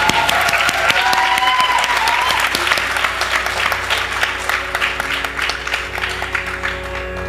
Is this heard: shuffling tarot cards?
no